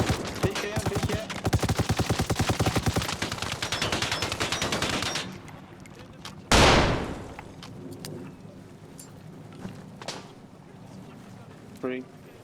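PKM machine gun fire in a tactical shooter game, a long rapid burst of close, loud automatic shots, then a heavy boom and scattered distant shots, with voices talking over the firefight.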